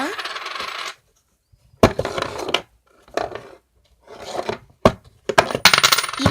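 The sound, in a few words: coins dropping out of a homemade coin machine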